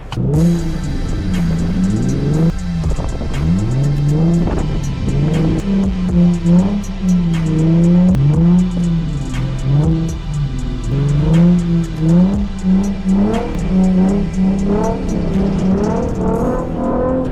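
Lexus car pulling away from a gas station and driving on, engine revving up and down through repeated gear-like surges, close and steady under road noise, with no talking.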